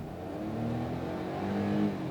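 A Hyundai Venue with a 1-litre turbo petrol engine accelerates hard in sport mode, its steady engine note climbing in pitch over about two seconds, close and fairly loud with no talking.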